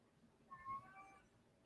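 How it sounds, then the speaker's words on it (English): A house cat meows once, a short, faint, tonal call heard alone in a quiet indoor room. "I'm going to shut the door because my cat is being obnoxious"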